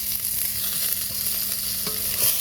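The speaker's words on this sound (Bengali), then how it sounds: "সুন্দর লাল লাল মাছ ভাজছে" Steady sizzling of fish frying in hot oil, a continuous crackling hiss with occasional soft stirring clinks.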